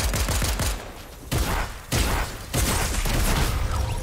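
Pistol gunfire in the video game Fortnite comes as loud bursts of rapid shots that break off and start again several times in quick succession, close and harsh with no talk.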